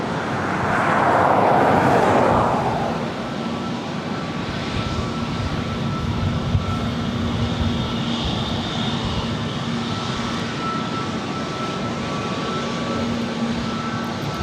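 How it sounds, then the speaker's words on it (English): Airbus neo jet airliner engines at LAX, a steady broad roar with a louder swell in the first few seconds as an aircraft passes nearby, then a continuous fainter engine rumble and whine carrying on alone. "Sounds like a Neo."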